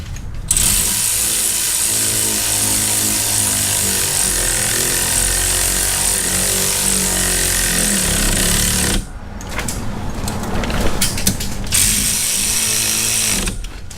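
A 19mm socket on a power tool tightens a brake bracket bolt during a six-piston brake install on a Pontiac GTO: a loud, continuous hammering rattle that runs for about nine seconds, pauses, then resumes in shorter rough bursts.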